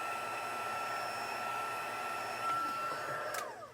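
A heat tool melting clear embossing powder blows with a steady close whir, holding even before cutting off near the end, with no talking.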